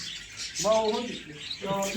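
Small birds of a kept breeding stock chirp in two short bursts of bright, rapid tweets close by, over a faint airy background.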